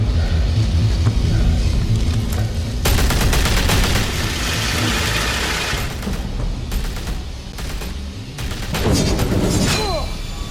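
Gunfire in the Batman: The Telltale Series video game, dense bursts of shots and impacts layered over a loud continuous game soundtrack and effects throughout.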